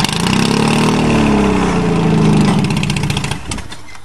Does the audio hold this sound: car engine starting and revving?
yes